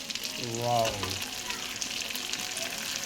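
Frying chicken korma sizzles steadily in a pan after cashew paste is spooned in, a soft continuous crackle with a brief low bubbling burst near the start and no talking.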